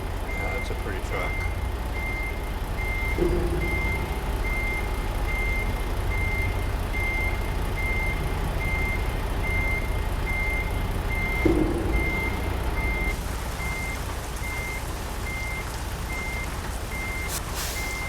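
Reversing beeps chirp at an even pace from a nearby truck over its constant idling diesel drone, with a couple of brief hissing bursts partway through and speech mixed in.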